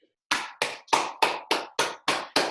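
Eight sharp, evenly spaced hand claps from one person in a Zoom language classroom, close and crisp, each with a quick decay, following a brief silence.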